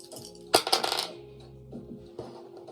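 Red and white dice tumble and clatter onto a hard surface in a sharp burst of rattling clicks, followed by a few quieter knocks as they settle, close by with no talk.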